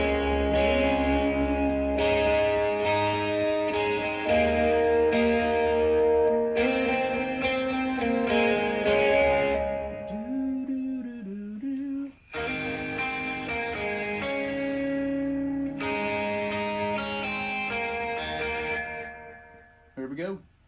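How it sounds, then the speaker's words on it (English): An electric guitar plays chords and melodic lines drenched in wide, shimmering chorus and spacious reverb, with short pauses between phrases. "I was talking so much about my stereo reverb."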